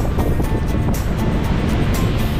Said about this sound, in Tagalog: Grabe kasi yung alon. Ayun yung alon.